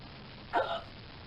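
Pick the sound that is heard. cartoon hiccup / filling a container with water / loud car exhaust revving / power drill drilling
cartoon hiccup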